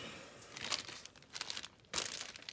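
Crinkly rustling bursts as a crinkled seam binding ribbon, left overnight, is handled and scrunched, close up, in short irregular spurts with quiet gaps between.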